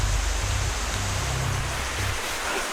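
Steady rain falls outdoors near a waterfall stop in Kedah, a constant hiss of moderate loudness with low rumbling underneath and no voices.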